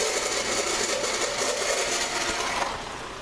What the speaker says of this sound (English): So we plug in the filter, and it sounds horrible.